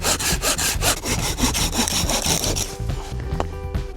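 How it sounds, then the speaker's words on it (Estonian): Handsaw rhythmically cutting dry alder and aspen logs in half for a wood stove on a winter camping trip, steady close back-and-forth strokes with a brief pause near the end. "Tuleb pooleks saagida, muidu ei mahu ahju."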